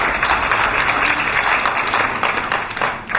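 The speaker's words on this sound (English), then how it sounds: "Please give him a big round of applause." Applause from the audience at an IoD event in London: dense, continuous clapping filling the room for about three seconds, loud and steady with no speech over it.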